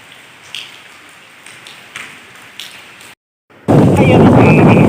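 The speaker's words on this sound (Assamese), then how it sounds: "বৰষুণ পৰি আছে এতিয়াও" Steady rain pours down with a dense hiss, briefly cut out, then returning louder and closer, with occasional sharper taps.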